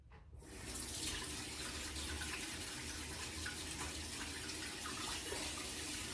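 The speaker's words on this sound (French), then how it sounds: "je me repasse les mains à l'eau" Hands rinsed under a running kitchen tap while making a sweet burger dough, a steady broadband rush of water that starts abruptly and flows on evenly and close up, with no talking.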